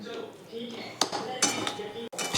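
A utensil clinks and scrapes against a pan while homemade pasta is mixed with chopped coriander: a few sharp metallic knocks over a soft, continuous stirring rustle, close and moderately loud.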